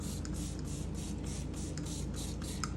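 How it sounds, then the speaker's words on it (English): A steady hiss of spraying runs throughout, with several short bursts pulsing from a nearby spray bottle of melted butter against a constant low background hum. "this is half a stick of butter that I've melted, this nifty spray contraption."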